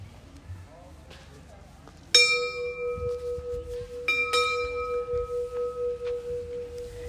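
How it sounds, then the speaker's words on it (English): A school bell is struck to call students to the mosque before maghrib prayer, giving two sharp metallic strikes that ring on with long sustained tones, over outdoor background noise and faint chatter. "So here Mr. Isham will knock the bell"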